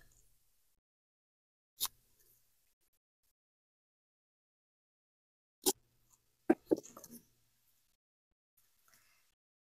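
Scissors snip the ribbon tails of a handmade faux bow, a single crisp cut near the start, another a few seconds later, then a short cluster of close snips and rustles, all quiet with no talking.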